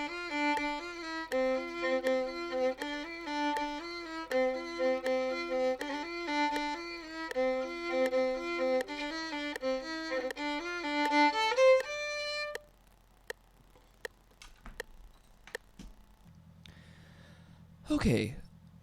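A violin plays the Irish tune Ships of Ireland in a clear, steady melodic line for about twelve seconds, then stops, leaving a few faint clicks and a short breathy noise near the end.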